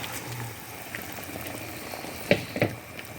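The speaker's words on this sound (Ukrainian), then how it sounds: "Так, борщик наш закипів." Green borscht with sorrel simmers in a pot, a soft, steady bubbling hiss with a couple of sharper pops near the end, close by and with no voices.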